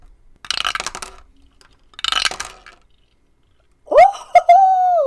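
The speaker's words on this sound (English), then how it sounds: "Dice tower." Dice tumble down through a dice tower during a tabletop roleplaying session, giving two quick rattling clatters of hard dice, then a short pause and a brighter clinking burst as they land, all close and with no talk over them.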